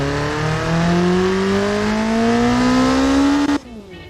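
A tuned engine in the racing sim Automation revs steadily upward under load for about three and a half seconds, pitch climbing smoothly and loud, then cuts off abruptly and drops to a quieter idle-like tone.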